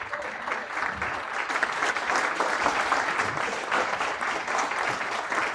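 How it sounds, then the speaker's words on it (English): Conference audience claps warmly for a presenter at an energy medicine talk on the Rife Universal Microscope, a continuous, even wash of many hands clapping from start to finish without voices. "So please, big round of applause for Stephen."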